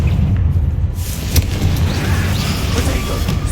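A fiery Confringo spell explosion in a Hogwarts Legacy finale battle on Xbox Series X lands as a loud, rumbling boom with a sharp crack, followed by sustained low roaring debris.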